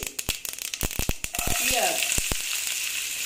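Chopped onions frying in a hot pan for an oats snack: a string of sharp clicks and taps gives way to a steady, close sizzle, with a brief voice partly over it.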